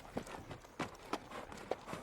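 Horse hooves clip-clop in a steady walking rhythm, a few distinct soft thuds spaced across a short stretch, moderately near against a faint background hiss.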